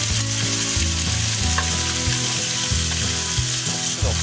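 Bean sprouts hit a hot pan with meat and vegetables and fry in a loud, continuous sizzle, with rhythmic rumbling thuds from tossing and stirring running underneath.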